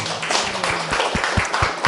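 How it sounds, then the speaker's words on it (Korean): A seated audience at a talk gives a brief round of applause, dense clapping that fills the moment, with a few distinct low thumps near the end. "박수 한번 주세요"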